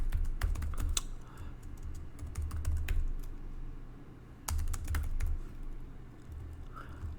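Steady keystrokes on a computer keyboard fill the recording, typed in quick bursts with short pauses and heard close and clear without any talking.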